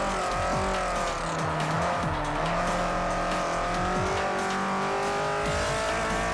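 A race car laps at speed in Forza Motorsport 4, its engine howling loud and close as it shifts up and down through gears, with tire squeal through the corners.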